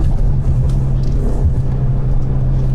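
Ford Mustang 2.3 High Performance driving on a rain-wet road, a steady low engine and tyre rumble heard from inside the cabin, even and continuous with no voices.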